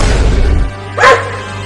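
A cartoon dog lets out a single sharp bark, loud and close, after a low rumbling background fades away.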